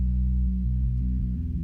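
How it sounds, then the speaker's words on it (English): A bass guitar filtered down to its sub-bass range alone gives deep, steady low tones with slight changes in pitch, and nothing sounds above them. "And then now this is just a sub only track"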